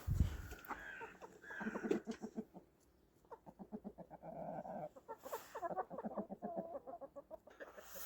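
Chickens clucking at their coop, soft and close, in a busy run of short murmuring clucks and calls with brief pauses, over quiet outdoor background.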